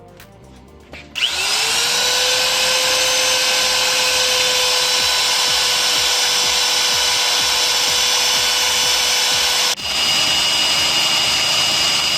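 A handheld power drill bores a hole on a workshop bench for a motorcycle engine stand, starting after a brief click and whining at a steady high pitch for about eight seconds, loud and close, before stopping abruptly.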